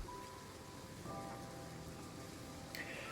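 Steady rain falling on a station platform in Train Sim World 3, a soft continuous hiss of drops on the surface, quiet and even throughout with a faint tone near the end.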